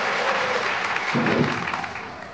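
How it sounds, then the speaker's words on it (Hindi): An audience claps at a Mahagongo tribal cultural gathering in Butibori, a dense, steady wash of applause that holds for a couple of seconds, with some crowd noise mixed in. "जोर से तालियों का आवाज देनी चाहिए"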